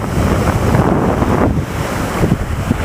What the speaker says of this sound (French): les vagues sont très fortes, fait que tout le sable est remué